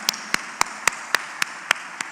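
Sparse, evenly spaced handclaps from a small audience at a government agency event, about eight crisp claps in two seconds, each standing out alone against a quiet room.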